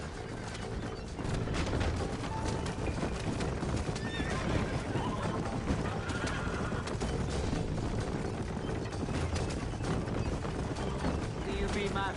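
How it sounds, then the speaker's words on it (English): Horses neigh and whinny over steady galloping hoofbeats in a video game, Red Dead Redemption on PS4, dense and continuous throughout, with a faint voice underneath. "Move them horses, damn it."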